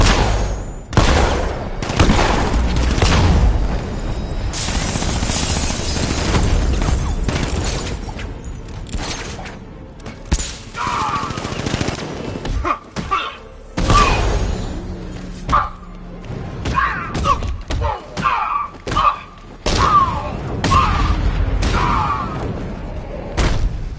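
Gunfire in the video game Batman: Arkham Knight, loud bursts of automatic fire and heavy thuds in dense clusters, broken by short pauses and mechanical clanks, with little talk.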